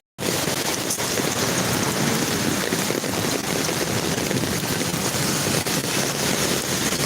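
Heavy rain pours down in Singapore, a dense, steady hiss of close, loud downpour that holds without a break, with no voices.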